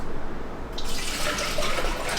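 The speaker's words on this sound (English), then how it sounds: "we're gonna take 1 quart of filtered water and put it into pots" Filtered water pours into a cooking pot, one quart measured out for brewing kombucha; a steady broadband splashing stream starts after a brief quiet moment and continues close and fairly loud.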